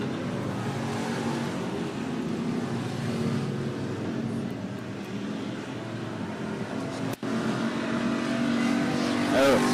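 Stock cars racing at 105 Speedway on opening weekend, a steady loud roar of engines sustained throughout, with a commentator talking over it.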